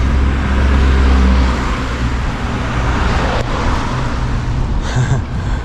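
A police car rolling past on a city street, heard as a steady loud road rumble of tyres and engine near a streetball court, with traffic noise around and no siren.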